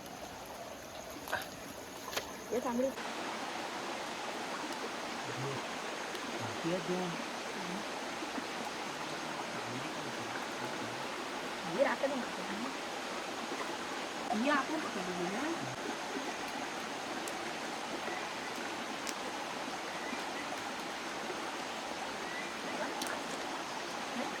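A river flows in a continuous, steady rush of water, heard outdoors at moderate distance for the whole stretch with a few faint background voices.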